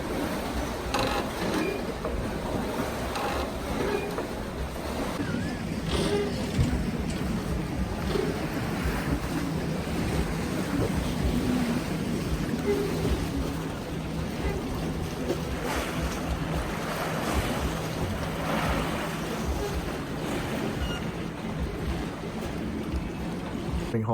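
Steady river waves lapping around a floating home in Portland, Oregon, a continuous mid-level wash of water and low rumble with no voices.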